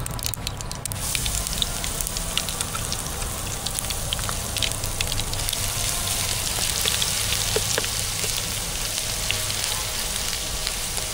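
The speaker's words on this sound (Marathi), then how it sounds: "त्यानंतर यात मी टाकते अद्रक लसूणची पेस्ट" Ginger-garlic paste frying in hot oil in a pan, a steady, moderately loud sizzle with crackling pops throughout, heard alone without speech.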